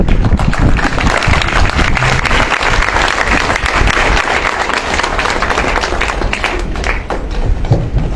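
A crowd stands and claps loudly and continuously, with close, heavy hand claps and thuds filling a packed event space at full volume throughout.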